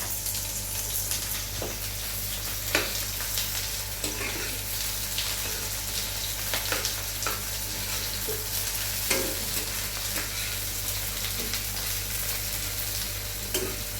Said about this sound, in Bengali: একটা মাঝারি একটা পেঁয়াজ কুচনো দিয়ে দিলাম।